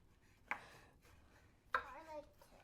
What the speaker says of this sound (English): I'm also going to be chopping up about 4 or 5 cloves of garlic